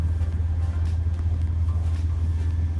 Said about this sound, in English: Just a giant car carrier coming past the Atlantic Highway.